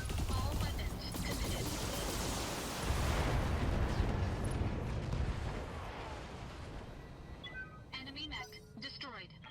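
Mech weapons fire in a BattleTech battle against a Thunderbolt and Hunchback, a dense, sustained barrage of booms and blasts that swells midway, then thins into scattered metallic clanks and beeps, with a voice talking over it.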